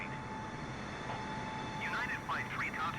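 A Boeing 747 in Microsoft Flight Simulator gives a steady, low jet engine drone throughout, fairly faint and even, with a voice talking over it.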